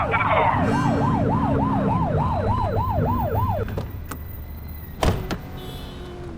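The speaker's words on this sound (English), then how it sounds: "Get behind them and blip the siren and make them pull over." A police car siren in The Precinct video game sounds a loud, rapidly rising and falling electronic wail, followed by a couple of sharp short bursts, with no talking.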